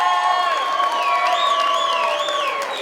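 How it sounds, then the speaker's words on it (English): Wedding guests cheer with wavering, drawn-out whoops and calls over a continuous crowd roar; clapping is not distinct. "Folks, a big round of applause for Patrick's father, Mr. Fred Saldo, and Patrick's stepfather,"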